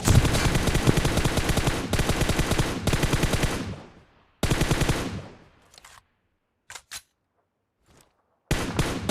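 Rapid bursts of automatic gunfire from a mobile shooter game, loud sustained volleys for about four seconds, then a fading tail, a few short isolated shots and a final burst, with no talk.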